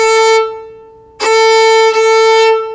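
Violin bowed with heavier pressure on the strings, two full, loud sustained strokes with a brief gap between them, close and strong, played alone with no talk.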